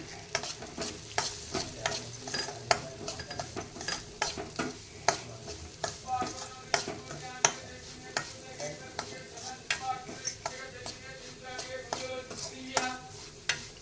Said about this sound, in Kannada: ಚೆನ್ನಾಗಿ ಫ್ರೈ ಮಾಡೋಣ ಈ ರವೆ